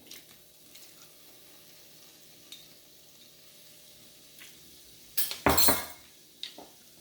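Garlic shrimp cooking in olive oil with garlic and white wine in a pan: a faint steady sizzle throughout, then a loud brief burst of frying around midway, with a few soft clinks of utensil against the pan.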